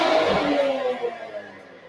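A Nissan Z engine with aftermarket downpipes lets out a loud, raspy exhaust blast up close, and the roar quickly dies away.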